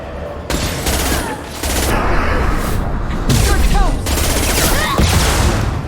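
Rockets and gunfire in Mass Effect 2 combat, loud bursts of rapid shots and booming blasts packed close together, with battle noise between volleys.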